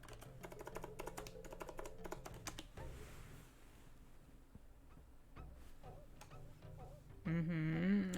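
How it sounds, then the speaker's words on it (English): Someone types a password on a computer keyboard, a quiet run of quick close key clicks in uneven bursts, with a sharper honking tone breaking in near the end. "Wait, I'm not typing my password correctly."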